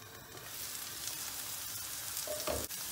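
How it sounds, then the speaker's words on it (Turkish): Onions sautéing in a pan, a close, continuous sizzle with a short stirring clatter near the end, and no talk. "Soğanımız istediğimiz aşamaya geldi. Çiğ kokusu gitti. Hafiften kavrulmaya başladı."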